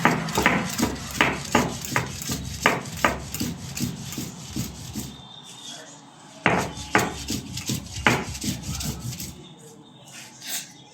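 Neem leaves ground into a paste on a stone grinding slab, little by little with no water added, give a steady rhythmic series of close rasping rubs that pause and then start again.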